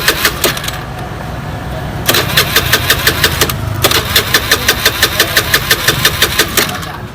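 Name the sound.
Honda Beat motorcycle starter cranking with fuel injector removed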